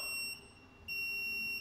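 A Yantek YD208 power probe beeps with a steady, piercing electronic tone. The beep cuts out briefly and then resumes, and no one speaks.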